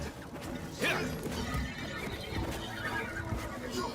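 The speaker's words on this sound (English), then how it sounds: "They have horses in Warframe!" A horse whinnies in the Warframe game during The Duviri Paradox, a loud neigh near the start, then scuffling hoof and clattering game sounds continue under a busy, dense mix.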